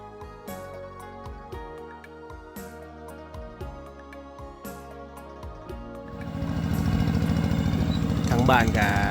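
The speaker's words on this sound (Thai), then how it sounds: "ทางบ้านก็จะเห็นเป็นรถอีตอกอีแตกแท็กซี่แหละพี่น้อง" Engine of a Lao e-taek tok-tok, a farm-tractor taxi in a rural Katu village in Laos. Its loud, steady rumble swells in after about six seconds over music playing and continues to the end.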